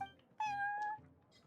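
A cat in Genshin Impact gives a single clear, tonal meow lasting about half a second, close and alone against a quiet background.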